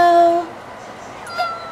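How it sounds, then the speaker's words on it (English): A house cat gives a clear, close meow followed by a shorter, softer second meow, with no one speaking over it. "there's Kitty. She says hello."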